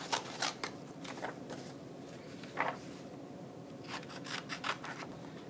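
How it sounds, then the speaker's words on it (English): Scissors cutting through two stacked sheets of paper along a pencil line, faint close snips and rasping slides coming in small irregular bursts over a quiet room. "Cut along my pencil line the best that I can, holding my two papers together."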